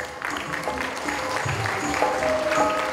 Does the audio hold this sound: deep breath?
no